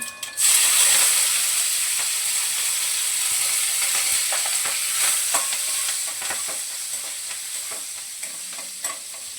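Mustard seeds, garlic and curry leaves sizzling in hot oil in a home kitchen pan, a loud continuous fry hiss with scattered crackles and pops and occasional stirring clinks.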